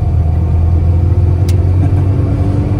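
A 1989 Mini Mayfair with a 1-litre, 42-horsepower engine driving on the road, its engine a steady loud low rumble heard from inside the car, continuous throughout with no talking.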